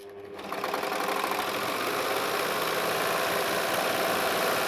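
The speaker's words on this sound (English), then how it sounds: "I'm going to run that through, and you're going to see that without any tension adjustment, this is going to stitch through beautifully" Baby Lock Enspire EX sewing machine stitching through two layers of light organza, running steadily and continuously at close range after a brief quiet start, with no talk.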